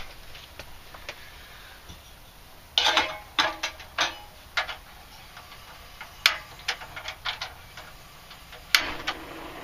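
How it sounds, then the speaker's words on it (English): A gas stove in a van kitchen is switched on, its igniter giving a series of sharp, irregular clicks in quick bursts, fairly close and otherwise quiet. "Turn on my stove."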